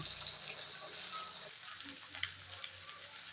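Fish and prawns frying in hot oil, a steady soft sizzle with faint hiss, fairly quiet and continuous, with a slight shift midway as things are moved in the pan.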